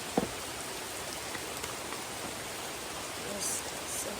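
Rain falling outdoors during a trek, a steady, even hiss of drops that runs throughout, with a few faint knocks and rustles close by.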